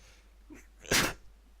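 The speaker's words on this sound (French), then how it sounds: "Excusez-moi, petit éternuement." A single sharp sneeze, close and sudden, after a brief intake of breath, in an otherwise quiet room.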